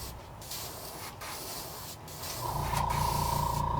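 An airbrush sprays paint at low pressure onto the belly of a custom blue and silver fishing lure, a steady close hiss running unbroken with brief dips and growing slightly louder near the end.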